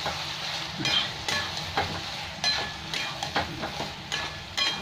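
A spoon works through a pan of frying ridge gourd and potato with ground poppy seed paste, making repeated scraping strokes over a soft, steady sizzle at close range, with no talk.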